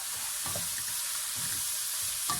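Veggie samosa filling of vegetables with sprinkled allspice sizzles steadily in a pan, with a few soft scraping stirs breaking through the fine, constant frying hiss; no one speaks.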